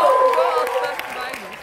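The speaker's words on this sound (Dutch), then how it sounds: "Geef een groot applaus." A concert crowd applauds as a performer is introduced, a short burst of clapping and cheering with a singer or announcer's voice and tonal sound lingering over it.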